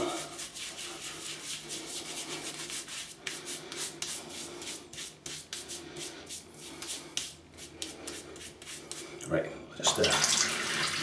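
Running water rinses tallow-based shaving soap out of a container, a steady splashing wash that swells louder near the end, with some speech mixed in.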